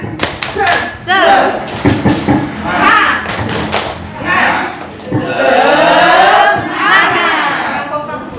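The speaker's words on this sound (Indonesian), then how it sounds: "Kita tepuk dulu ya. Tepuk semangat." A seated audience at a training workshop claps a rhythmic group clapping chant, patterned bursts of claps with loud thuds, mixed with voices shouting and calling out together, then a cheering swell.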